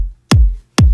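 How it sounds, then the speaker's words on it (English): Two punchy, deep kick drum hits, evenly spaced, each with a sharp click and booming low tail, alone and loud. "I have a kick, which is obviously the core of this song."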